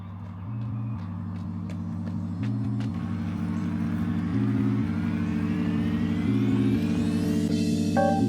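A garbage truck rumbles past nearby with a steady, loud low engine drone that pulses and builds slightly over several seconds.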